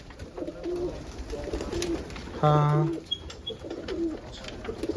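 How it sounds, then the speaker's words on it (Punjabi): Blue pigeons coo in soft, repeated throaty calls, one louder coo close by in the middle, with a brief voice heard once. "ਨੀਲੀ ਕਬੂਤਰੀ"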